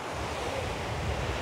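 Riverside water at Anakulam rushes on continuously with gusting wind buffeting the microphone, a steady, fairly faint roar with no voices.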